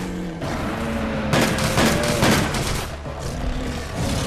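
Gunfire erupts in a hunting video game as a bear is shot, with dense rapid bursts of loud, close shots forming a sustained volley and a brief lull before more firing.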